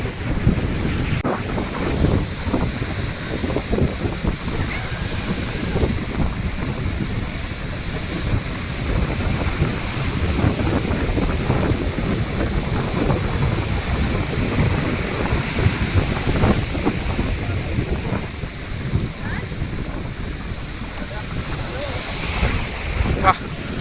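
Strong, forceful ocean waves crash onto the shore at Dhanushkodi, a continuous loud roar of surf with repeated surges, mixed with heavy wind buffeting the microphone.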